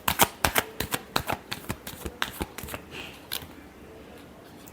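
A deck of tarot cards is shuffled by hand, giving a quick series of crisp riffling slaps up close that thin out into softer rustling toward the end.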